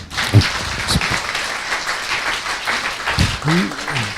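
A room full of people applauds, a steady patter of clapping with a voice briefly speaking over it near the end.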